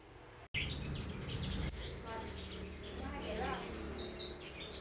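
Small caged sunbirds chirp in thin, high tweets scattered through the scene, faint to moderate, while someone talks over them.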